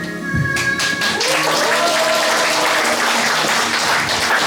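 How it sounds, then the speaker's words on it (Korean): A library audience applauds after a poetry recital, a dense, loud burst of clapping that starts abruptly and holds steady to the end, with a faint voice and lingering tones near the start. "다시 한번 큰 박수 부탁드립니다"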